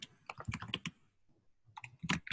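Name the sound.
typing on a computer keyboard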